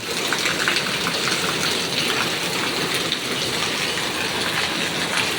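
Heavy, nonstop rain pours down near a highway connector, a dense, even roar of drops on surfaces that holds steady throughout with no voices.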